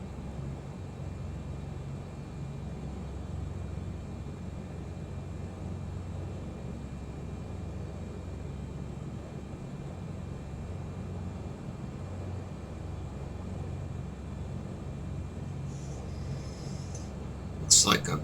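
A large two-deck airliner rolls past on the runway in a flight simulator game, heard as a steady low engine rumble that holds evenly throughout, with a brief sharper burst right at the end.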